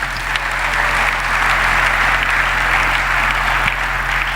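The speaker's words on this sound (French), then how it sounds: "Acclamons la parole du Seigneur." A church congregation applauding steadily and loudly, a dense continuous wash of clapping that holds at even strength throughout with no talk over it.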